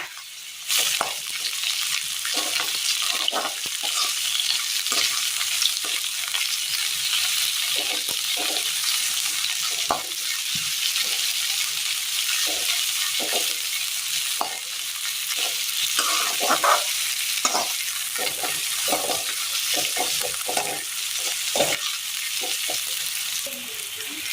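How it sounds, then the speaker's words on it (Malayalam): Onions frying in a pan of oil for a Kerala dish, a steady, close hiss and sizzle with frequent light clicks and scrapes of stirring, with no talking. "ഇതിലേക്ക് സവോള കൂടി ചേർത്ത് കൊടുക്കാം."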